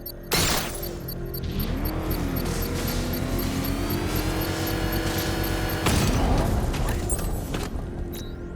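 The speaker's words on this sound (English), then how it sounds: "I can use the power winch to trigger a controlled explosion." A controlled bomb explosion set off by a power winch in Batman Arkham Knight: a sharp blast, then a long rumbling, whining stretch and a second loud burst of debris, all close and fairly loud.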